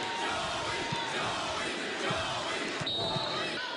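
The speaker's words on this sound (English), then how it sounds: "look at this crowd in New Salem" Spectators murmur and cheer at a regional volleyball championship in a New Salem gym, with steady crowd noise and occasional thumps of a ball on the court.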